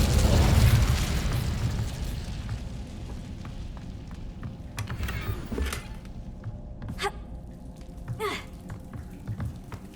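Incendio fire spell cast in Hogwarts Legacy, a loud whooshing burst of flame at the start that fades into a rumbling tail, with a few sharper bursts and pops later on.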